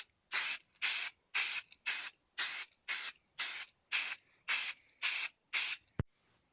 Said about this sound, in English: I'm going to go ahead and spray some flat protective enamel on it